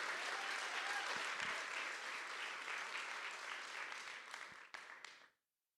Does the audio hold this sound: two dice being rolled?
no